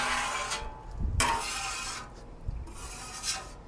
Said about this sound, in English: you take either a scraper or your spatula like I'm doing right here, and you just scrape everything over